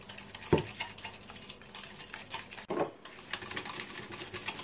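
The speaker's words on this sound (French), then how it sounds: "Donc je vais mélanger" Pearl couscous salad with shrimp being stirred and tossed in a pan, a steady scraping and clinking mix with two sharper knocks, close and moderately loud, no talking.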